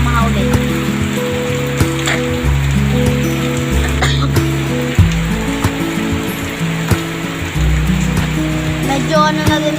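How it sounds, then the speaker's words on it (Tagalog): Heavy rain from Typhoon Enteng pours down loud and steady, mixed with a low droning hum, with no talk heard. "ngayon po is naulit na naman po kung gaano kalakas yung ulan kahapon is ganun din po kalakas yung ulan ngayon"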